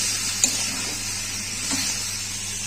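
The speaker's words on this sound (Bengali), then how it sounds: "মশলাটা আমি এভাবে কষে নেবো।" Ginger, garlic, onion, tomato, cumin and coriander spice paste frying in a pan for a prawn curry, giving a steady close sizzle with soft stirring scrapes throughout.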